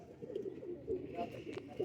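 A pair of pigeons cooing softly and repeatedly in low, throaty bursts, fairly close, with a faint voice in the background.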